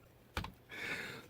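Tape is pulled and pressed down on a two-car garage diorama build: one sharp crackle, then a steady close hiss of tape unrolling for about half a second, with no talking.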